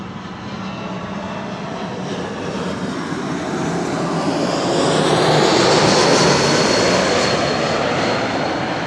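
An Air France aircraft at Amsterdam Schiphol Airport rumbles with a broad engine roar that builds gradually and peaks near the end, steady and moderately distant, with no talking.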